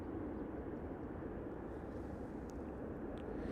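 A Spirit airliner takes off at Las Vegas airport, its jet engines a steady, broad distant roar that holds evenly throughout with no talk.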